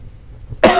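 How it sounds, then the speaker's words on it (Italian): One sharp, loud cough bursts out near the end after a quiet, faintly noisy pause and trails off into a rough exhale. "cosa ne pensate della mia tosse"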